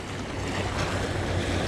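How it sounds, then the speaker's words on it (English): A jet boat rips across open water, creating a constant loud rush of churning spray and wave noise over a low steady engine drone, close and unbroken, without speech. "The guy with a jet boat"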